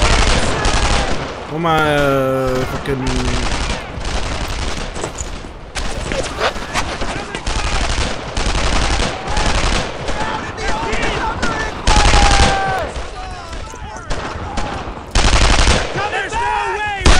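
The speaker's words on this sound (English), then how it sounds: "I'm taking some fire!" Machine gun fire in the video game Brothers in Arms: Earned in Blood: loud, dense bursts of automatic gunfire and shots throughout a chaotic battle, with voices shouting over the fire.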